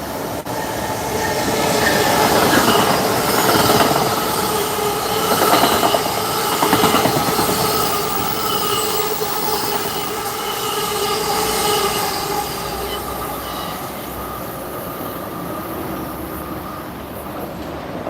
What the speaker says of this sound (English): We're going to have a train on the outside in a minute because we got the signal.